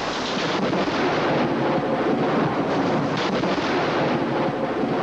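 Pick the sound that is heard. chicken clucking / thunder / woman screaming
thunder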